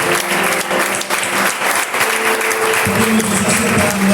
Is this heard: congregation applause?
yes